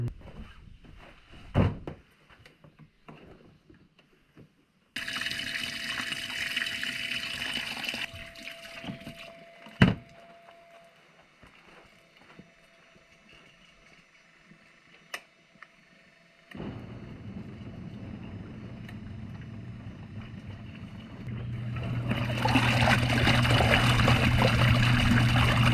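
Water is transferred at an off-grid property, running and splashing in changing bursts, with clunks and knocks between them and a louder steady rush of flow near the end.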